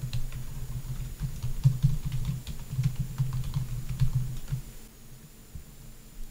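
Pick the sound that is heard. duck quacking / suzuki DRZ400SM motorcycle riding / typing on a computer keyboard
typing on a computer keyboard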